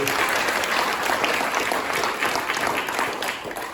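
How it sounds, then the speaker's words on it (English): A crowd claps steadily for several seconds, a dense wash of applause that fades slightly at the end. "Let's have a hand for Dan up there."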